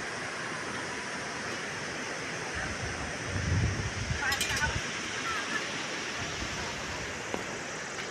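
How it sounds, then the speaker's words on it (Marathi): Sea waves rolling in at Harihareshwar beach make a steady, broad wash of surf with some wind, and a faint voice surfaces briefly partway through. "हा संबंध समुद्र"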